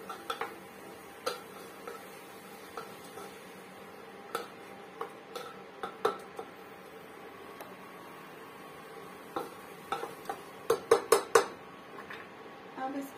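A spoon stirs chopped ridge gourd with red chilli powder in a metal pan, giving scattered light clinks and scrapes that cluster into a brisk burst of taps near the end, fairly quiet and close.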